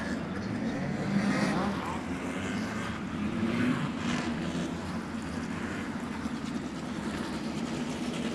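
Speedway race cars roar off the start at Premier Speedway in Warrnambool during a Southern Speedcar Tour round, a dense, steady engine rumble holding loud and continuous throughout with no one talking over it.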